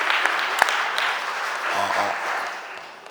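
Audience applause at a city council committee of the whole meeting, a sustained round of clapping from the room and gallery with a brief sharp knock near the start, tapering off toward the end.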